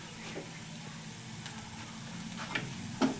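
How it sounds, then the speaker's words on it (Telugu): Onions frying in a pan give a quiet, steady sizzle with a few small clicks and stirring taps near the end. "ఉల్లిపాయలు ఇంకా కొంచెం మగ్గితే బాగుంటుంది"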